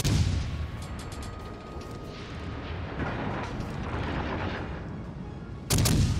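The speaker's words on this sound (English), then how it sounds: "I'm gonna try and help our team by shooting a radar cruiser." Light cruiser guns firing in a World of Warships naval battle, a dense rumbling barrage of booms under steady game noise, ending in a louder, closer blast burst; no talking.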